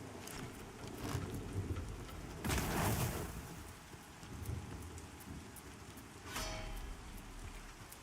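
Stormy weather in the online fantasy game Pantheon: Rise of the Fallen, with steady rain hissing on surfaces and a few loud thunder rumbles rolling through, one heavy swell near the middle and another later, no voices.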